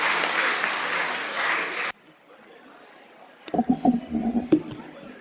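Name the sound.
applause from mushaira audience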